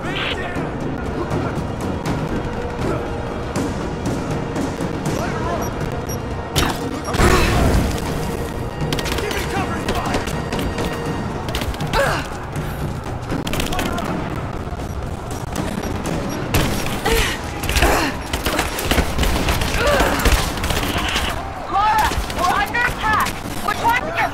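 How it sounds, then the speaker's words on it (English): Loud gunfire and explosions from the Rise of the Tomb Raider video game, with bursts of automatic fire, booming blasts and crashing debris running throughout amid a dense game soundtrack and voices. "Get ready to fire another shot."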